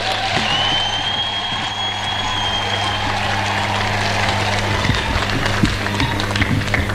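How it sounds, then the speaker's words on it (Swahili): Applause from mourners at Pauline Nyokabi Kuria's burial service in Gatondo, Kenya, steady clapping sustained across the whole stretch with a low hum underneath and a brief whistle-like tone early on. "Makofi."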